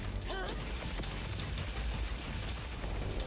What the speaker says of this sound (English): If we start shelling at the peak of the arc when it comes to the attack, when the gun lance is straight up in the air, we can start shelling.